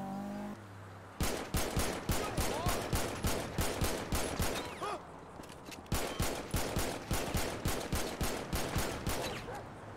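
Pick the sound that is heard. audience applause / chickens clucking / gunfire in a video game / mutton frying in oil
gunfire in a video game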